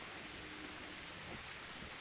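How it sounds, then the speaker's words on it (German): Heavy rain in the video game Metro Last Light, a dense, steady downpour hissing without letup, loud and close, with no voices. "Krasser, starker Regen hier."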